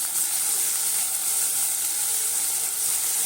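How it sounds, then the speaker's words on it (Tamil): Tomato and curry leaves sautéing in a pan for a chutney, giving a steady, close sizzling hiss with faint stirring, loud and unbroken throughout with no talk. "சேர்த்து நல்லா வதக்கிக்கோங்க"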